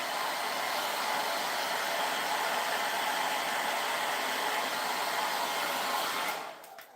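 A hair dryer or heat gun warms miniature model parts with a steady, loud, close blowing roar that holds for several seconds and then cuts off at the end.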